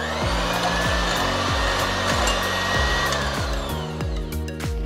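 An electric mixer beats softened butter with powdered sugar into a creamy mix for Hyderabadi Karachi biscuit dough. The motor whirs steadily and close, with regular knocking thumps as the beaters hit the bowl.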